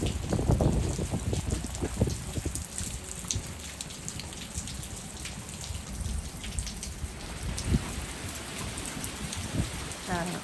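Heavy rain pours during a stormy downpour, drumming steadily on the roof of a truck with dense, constant patter and occasional louder splashes, loud and close throughout with no voices.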